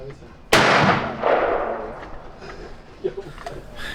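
A suppressed DDC Enticer S rifle firing 5.56 at an outdoor range: one sharp, loud report followed by a second softer shot, each with a short echoing decay.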